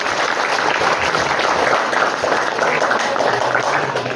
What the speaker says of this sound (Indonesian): Ayo kalau gitu kita beri aplaus kepada narasumber kita